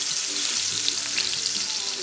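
Oxtail meat browning in a pan sizzles and spits steadily throughout, a dense close crackle of hot fat with faint stirring underneath.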